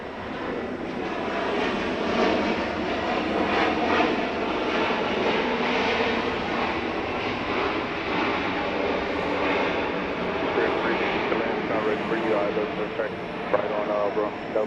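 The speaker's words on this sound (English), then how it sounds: "I do have to say the planes seem louder here" A Boeing 737-900 from St. Louis lands on runway 8 left at Atlanta airport at night. A steady, loud jet engine roar holds throughout, heard from beside a concrete building.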